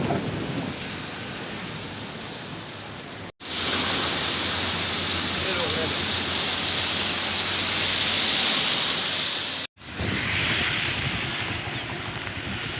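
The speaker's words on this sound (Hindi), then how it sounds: "बारिश अभी हल्की हल्की है।" Rain falls outdoors as a loud, steady wash of noise that cuts out briefly twice and then resumes at full strength.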